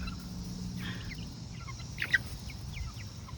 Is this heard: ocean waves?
no